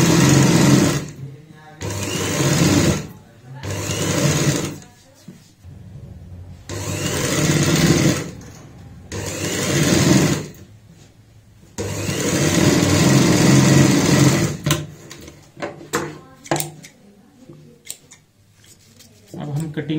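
A sewing machine stitches a neck design on fabric in bursts of fast whirring, with pauses between runs. Someone talks over and between the stitching.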